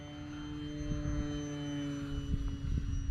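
A steady engine drone with a sustained harmonic whine from a Durafly Tundra RC model airplane buzzing overhead at moderate distance in high wind, fairly constant throughout.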